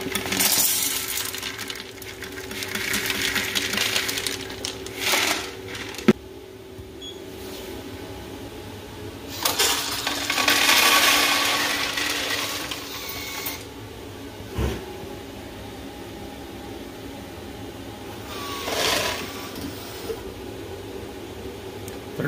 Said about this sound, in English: we're going to test them, run them through the moisture tester